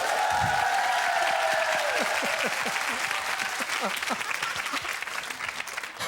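A crowd applauds warmly and steadily, the clapping gradually thinning out, with a voice speaking briefly at the start.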